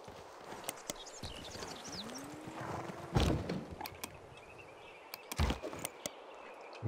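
Horse units in the strategy game Civilization VI, with a steady clip-clop of hooves, a brief whinny-like rise and a couple of louder thuds of battle effects over a quiet game backdrop.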